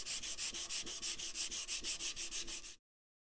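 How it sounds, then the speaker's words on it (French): A steel café racer motorcycle tank is hand sanded with 80-grit paper on a sanding block. About sixteen even, rhythmic back-and-forth rasping strokes sound close up, then stop abruptly. "J'ai commencé à poncer ici avec un grain 80, plus grossier que sur le siège."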